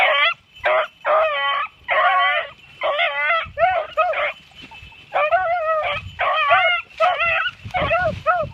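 A hunting dog working an open field whimpers and yips in a rapid series of high, whining bursts, close and loud, with short pauses between clusters.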